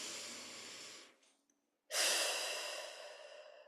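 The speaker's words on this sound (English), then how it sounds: "just breathing and taking a deep breath in through the nose" A person draws a deep breath in through the nose, a soft airy inhale that fades into a brief pause, then a louder, sharper rush of breath follows, close and alone with no talking.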